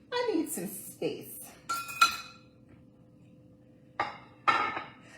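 Dishes clink and clatter in quick bursts while mini breakfast casseroles are plated, sharp ringing knocks on plates and silicone cookware, with a pause in the middle before two more clatters near the end.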